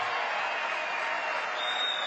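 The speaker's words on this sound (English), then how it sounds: "Controversial comments followed by thunderous applause." Thunderous applause from a large crowd after controversial comments, a dense, steady wash of clapping that holds at full strength from start to finish with no gaps.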